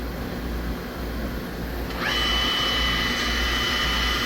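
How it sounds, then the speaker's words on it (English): Power-driven tools spinning on a Star SR-32J CNC Swiss lathe, a steady mechanical whir that steps up partway through into a higher whine with a sustained tonal hum, loud and close with no talk. "This video is for power driven tools on the main side."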